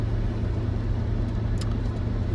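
A pickup truck engine of about 140 horsepower drones loud and close, a steady low rumble throughout with a brief brighter whine as it pulls.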